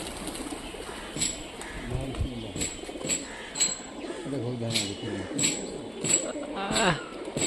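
Pigeons in Rajshahi, Bangladesh, coo in soft, repeated throaty calls near and around, mixed with chirps, while people talk in the background.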